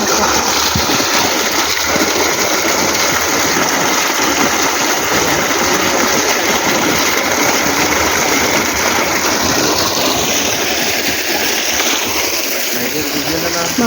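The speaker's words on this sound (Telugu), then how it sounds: "దీనికి వాటర్ చూడండి ఎలా వెళ్తుందో." Water gushes and splashes steadily among guava saplings in a Kadiyam plant nursery, a loud continuous rush with an engine-like drone beneath, while someone talks over it.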